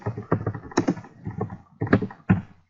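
Clinical note being typed on a computer keyboard in dental practice software: clustered bursts of key clacks, close and fairly loud, with short pauses between runs and no talking.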